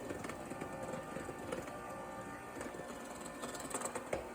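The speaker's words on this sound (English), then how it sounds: "This is my handheld mixer that I love." Handheld electric mixer styled like a KitchenAid, run on low speed while beating a mixture with powdered sugar; a steady, fairly quiet mechanical whir that continues without pause.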